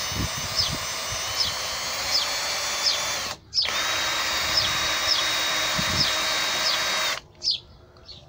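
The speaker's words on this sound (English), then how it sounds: "I should clean the hole out a bit." Power drill fitted with an 8mm tapping bit cleaning out a threaded hole, a loud steady high whine in long runs, cut off briefly midway and stopping near the end, with no talking.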